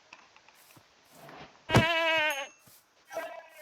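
A goat bleats once in the video game Minecraft, a clear wavering cry lasting under a second, set among quiet clicks and faint background game sounds.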